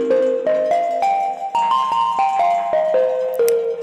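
Synthesized gamelan-style microtonal plucks with a random pitch LFO and slight distortion step through a wandering bell-like melody, each note struck cleanly and shifting unpredictably in pitch, loud and upfront with no voices.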